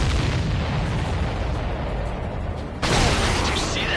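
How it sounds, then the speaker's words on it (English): An explosion in the aerial combat game Ace Combat 7, a sudden loud burst cutting through a continuous roar of jet and battle noise. "explosion? Looks like that's one of them down."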